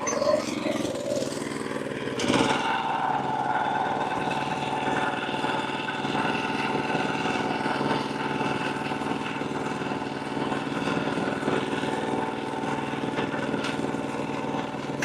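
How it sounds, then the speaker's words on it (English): A lawn mower runs steadily on Bermuda grass after verticutting, a continuous mid-pitched engine drone heard close and fairly loud through the whole stretch, with a brief bump near the start. "You don't get to see the mower in action."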